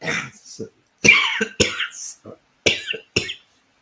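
Repeated harsh coughs in clustered bursts, loud and close, with throat-clearing sounds between them.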